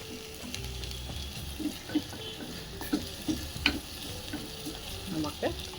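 Ginger and green chillies sauté in oil for a peas curry, a low continuous sizzle broken by irregular clinks and scrapes of a spoon stirring the pan.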